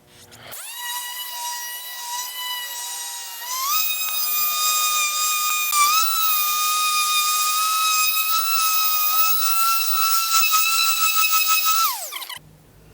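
A power sander whines steadily and loudly up close for about twelve seconds while sanding a wooden bed frame, its pitch stepping up partway through, then cutting off abruptly. No voices.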